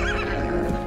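A mustang horse whinnies in a short, loud burst within a dense, full soundtrack mix.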